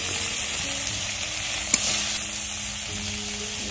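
Onion frying in hot oil for a Bengali prawn and water lily stem dish, a constant bright sizzle with one brief clink of a utensil midway.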